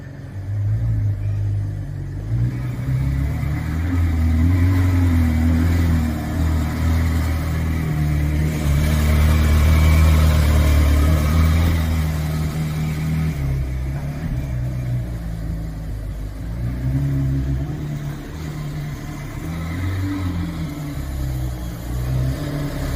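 A McLaren 765LT engine rumbles low and steady, swelling louder midway as it revs, then settling back into a continuous moderate idle-like drone with no talk.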